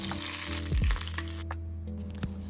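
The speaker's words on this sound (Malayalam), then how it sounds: "കടുക് പൊട്ടിയതിന് ശേഷം അതിലേക്ക് കുറച്ച് കറിവേപ്പിലയും കൂടി ഇടാം" Mustard seeds and curry leaves hit hot coconut oil for a cherupayar (green gram) curry tempering, giving a close, steady sizzle with a brief low rumble early on and a few soft pops.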